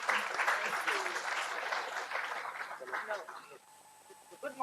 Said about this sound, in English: I request a loud round of applause welcoming her for her inaugurating talk.